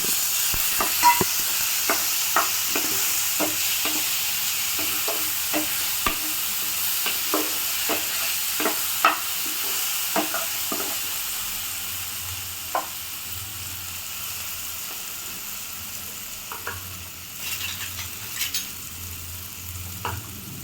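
A spoon stirs fish egg gravy with ground raw mango in a sizzling pan, giving a steady frying hiss broken by repeated scraping clicks, close and without talk.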